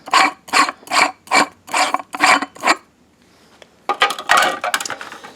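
A screw is worked loose from the back panel of a speaker: seven evenly spaced rasping ratchet clicks, a short pause, then a quicker, denser burst of scraping turns, close and fairly loud.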